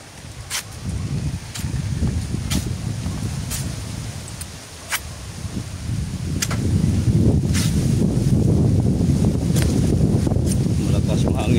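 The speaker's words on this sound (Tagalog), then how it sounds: "Malakas yung hangin dito, gaw." Strong wind buffets an outdoor spot where sap is being collected for palm wine, a rough low roar that swells stronger in the second half, with scattered clicks and taps on top.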